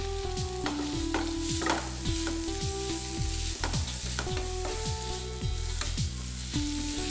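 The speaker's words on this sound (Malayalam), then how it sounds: "ചെറുതായി അരിഞ്ഞ ഒരു തക്കാളി കൂടി ചേർത്ത് കൊടുത്ത് നമുക്ക് നന്നായിട്ടൊന്ന് വഴറ്റിയെടുക്കാം" Chopped tomato sautés in a hot pan, giving a steady sizzle with occasional stirring scrapes, partly masked by louder background music with a melody throughout.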